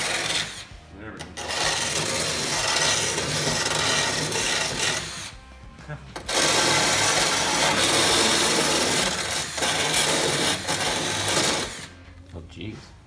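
A cheap grinding stone on a power tool grinds through holes, a loud continuous broadband whine in long bursts separated by brief pauses, with occasional speech.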